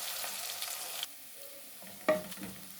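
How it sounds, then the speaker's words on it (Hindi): Garlic and ginger fry in oil in a pan with a steady close sizzle. The sizzle drops suddenly partway through, then a spoon scrapes and stirs in a short burst. Nobody talks. "ये लहसुन अदरक डाल दिया। इसको थोड़ा सा मैं पकाऊँगी ताकि इसकी कच्ची स्मेल ख़त्म हो जाए।"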